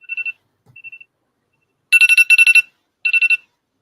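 Phone alarm ringing in bright, electronic beeping bursts, a short chirp followed by two loud clustered trill patterns and a final burst, alone in a quiet room.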